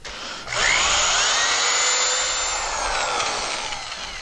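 A power drill mixer spins through a quick final mix of thick tile mortar for a ceramic tile fireplace surround. A steady, loud whirring grind starts after a brief pause and holds at a constant pitch to the end, with no talk.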